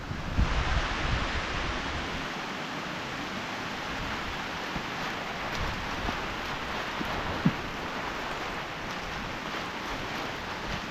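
Heavy rain falls during a flood over rice fields, a dense steady hiss with low rumbling wind noise throughout and a couple of faint knocks, with no talk.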